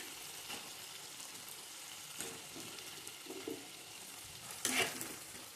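Diced onion frying with prawns and soy sauce for chilli prawn, a quiet steady sizzle with a few soft stirring scrapes and one sharper clatter near the end, no talking.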